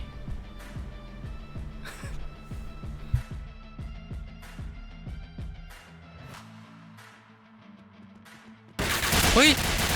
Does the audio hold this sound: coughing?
no